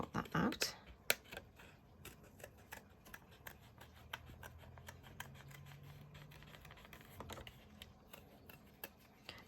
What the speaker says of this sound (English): So I'm going to cut that out.